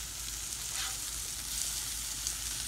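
Crappie fish fillets, just flipped, sizzle on a hot Blackstone griddle with a loud, dense, continuous hiss and crackle that holds steady from start to finish, with no talking over it.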